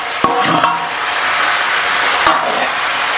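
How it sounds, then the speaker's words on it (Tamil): Bitter gourd and tomato sautéing in a hot pan give a steady, loud sizzle, with a couple of sharp utensil knocks near the start and another brief clatter later. "பாவக்காய் வதங்கிட்டே இருக்குது"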